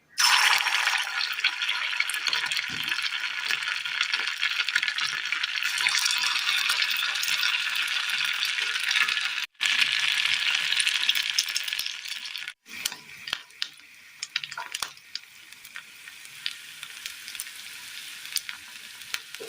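A small snack fries in hot oil over a low flame, a loud continuous close sizzle with brief breaks, later settling into softer crackling and popping.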